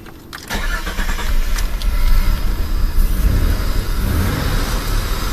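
A car engine suffering from oil burning cranks and catches, then runs at a slightly raised idle with a loud, steady, close rumble that holds to the end.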